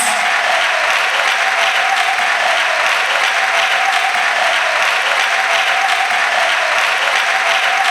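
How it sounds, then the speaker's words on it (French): Dense, sustained applause from a large audience at an academic excellence day ceremony, loud and even throughout with no pauses. "Acclamons pour Jésus-Christ."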